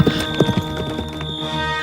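A small horse clip-clops while carrying its rider to a palace, a few close hoof strikes early on, then a softer steady background.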